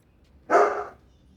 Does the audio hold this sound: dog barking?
yes